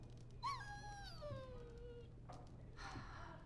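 A dog in the video game Dragon Age: Origins gives a rising, wavering whine that slides downward and trails off over a steady low game hum, followed by a brief softer sound.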